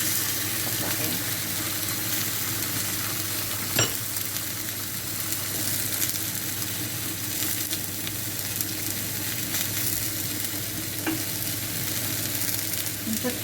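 Egg frying in one pan alongside a cooked breakfast of sausages, bacon and beans, giving a steady close sizzle with a few faint clinks of utensils throughout.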